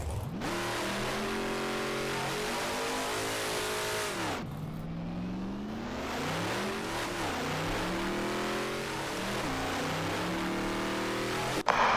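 A race car engine in the rFactor driving game roars loud and steady at high speed, climbing through rising revs with gear-change dips, then cutting off abruptly at the end.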